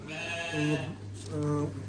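Two sheep bleat in turn, each a wavering, nasal call of under a second, close by with a steady low hum beneath.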